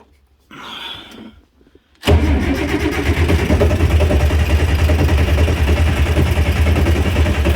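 An old tractor engine cranks briefly, falls quiet, then catches and settles into a loud, steady, rumbling run that continues to the end.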